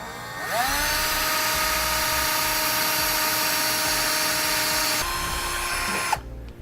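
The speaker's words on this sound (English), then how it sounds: "I'm going to come back with a rather small drill bit for a pilot hole" A power drill with a small bit bores a pilot hole while fitting a rear anti-sway bar on a 2015 Winnebago Minnie Winnie motorhome, a loud steady whine that runs for about five seconds, dips, then stops abruptly.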